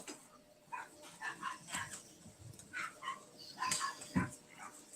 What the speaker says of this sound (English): Seems like the dog is barking outside.